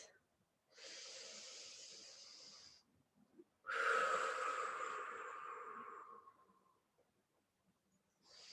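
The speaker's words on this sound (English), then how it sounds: "So let's go for 5 long breaths." Two long, deep breaths held during a thoracic stretch, a soft airy inhale followed by a louder, drawn-out exhale that fades gradually, with quiet pauses between.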